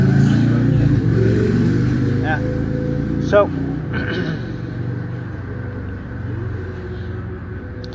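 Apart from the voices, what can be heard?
traffic noise outdoors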